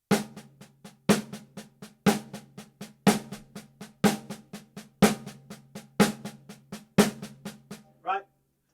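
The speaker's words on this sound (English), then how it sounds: "So if I would play that same paradiddle" A paradiddle played fast on a drum during a drum lesson, strokes in a steady stream with a loud accent roughly once a second for about eight seconds, ending on a final hit; no talking.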